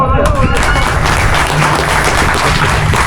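A crowd at a village Shivjayanti festival gathering in Majgaon claps loudly and continuously for about three seconds. The dense applause stays close and even throughout, with no voice heard above it.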